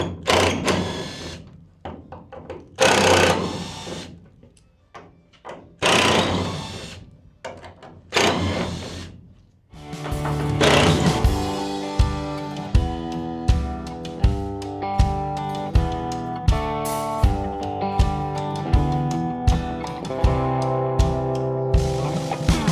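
Wooden slats and bolts being removed from the inside of a box truck: scattered loud knocks, thuds and scrapes at first, then a run of regular sharp clanks over a dense mechanical buzz and hum.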